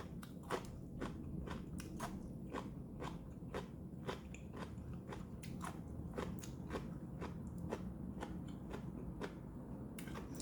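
Young radish kimchi made with autumn radish is bitten and chewed up close, producing a steady series of crisp, wet crunches in a regular rhythm over a quiet room background.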